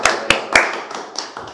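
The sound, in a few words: applause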